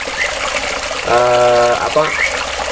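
A river flows through an aviary with a continuous, steady rushing wash of water while a person speaks over it.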